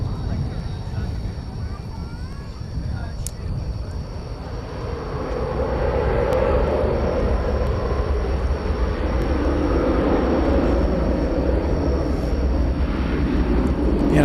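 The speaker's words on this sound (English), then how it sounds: "I know you hear a plane taking off." An airplane takes off at DFW Airport at night, its broad jet rumble building and growing louder partway through and then holding steady, with people talking over it.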